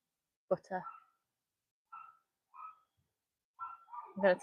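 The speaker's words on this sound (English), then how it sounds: "I could do with less of the dog barking right now" A dog at a live-streamed animal rescue event gives a few short yips and whines between gaps of quiet, then a louder burst at the end, close to the microphone.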